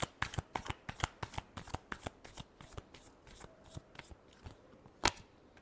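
A tarot deck is shuffled by hand in quick, crisp riffles, a steady run of soft card flicks up close with one sharper snap near the end; no talking.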